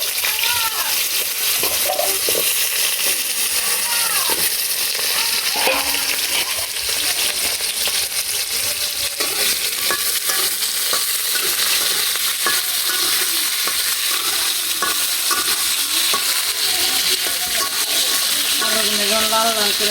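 Potatoes, eggplant and radish fry in hot oil with a steady close sizzle while a utensil stirs and scrapes the pan, and a person talks intermittently over the cooking.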